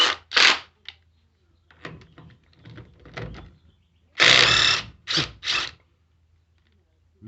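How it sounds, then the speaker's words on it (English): A Ryobi 18 volt 1/2 inch cordless impact wrench hammers at car lug nuts in short, loud rattling bursts, two at the start and three close together later, with faint handling sounds between. "If this takes these lug nuts off, I'll be amazed."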